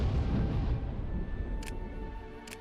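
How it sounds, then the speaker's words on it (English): An explosion effect in a Star Wars strategy video game: a deep, loud rumble that slowly fades over a few seconds, with faint high ticks near the end and no speech. "I wish that explosion sound effect wasn't earth-shatteringly terrifying."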